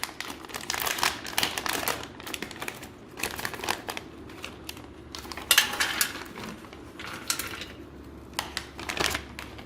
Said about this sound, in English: Now let's open up the nut raisin trail mix.